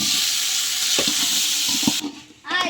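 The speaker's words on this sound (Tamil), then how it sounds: "வெங்காயம் மிளகால நல்லா வதங்கிச்சு, தக்காளி போட்டுடலாம்." Chopped tomatoes tipped into a pan of fried onions and chillies sizzle loudly and steadily while a spoon stirs and scrapes, then the sizzle drops sharply before a fresh burst of frying as more goes in.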